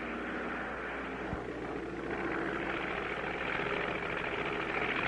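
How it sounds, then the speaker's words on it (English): Propeller airplane engine in a 1959 cartoon, flying through an icy Arctic setting: a steady droning hum that swells slightly louder partway through and holds without voices. "We're going to thread a needle with an airplane."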